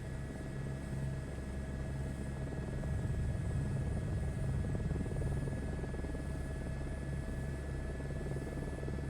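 A passenger helicopter in Microsoft Flight Simulator 2024 flies with no trim, a steady loud rotor thump and engine drone with a constant high whine, running alone throughout.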